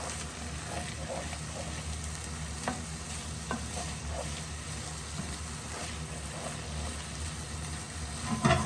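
Roast pepper, black beans and fresh oregano cooking in a pan, a constant close sizzle with a dense bubbling hiss and occasional soft clicks of a utensil, steady throughout.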